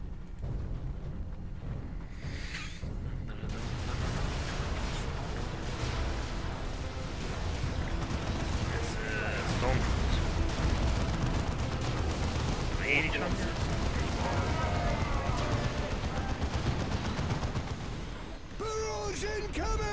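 Video-game artillery barrage from a mortar battery: continuous heavy rumbling blasts and bursts sustained throughout, loud and dense, with game voices and speech mixed over the explosions.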